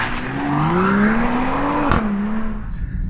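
A 2021 Mercedes-AMG GLE 53 engine drones steadily from inside the cabin as the SUV drives, its pitch rising smoothly under load. Road rumble runs underneath, with a brief knock near the middle. No talk.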